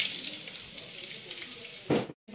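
Vegetable bhaji frying in a pan with very little oil, a steady soft sizzle with faint stirring scrapes, ending in a louder clatter followed by a sudden brief silence.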